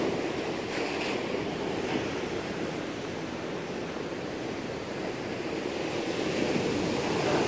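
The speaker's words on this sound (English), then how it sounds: "Back to the waves." Ocean waves rolling onto the shore, a continuous broad wash of surf with steady wind noise against the microphone, no voices, constant and fairly loud throughout.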